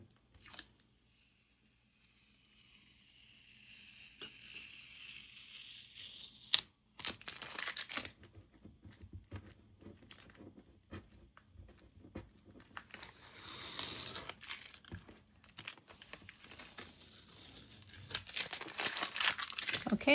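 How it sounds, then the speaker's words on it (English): Regular painter's tape being handled, crinkled and torn at close range, with crisp crackling bursts and sharp rips scattered unevenly across the stretch, fairly faint, around a craft session making watercolor bookmarks from cardstock. "And this is painter's tape. So just regular painter's tape."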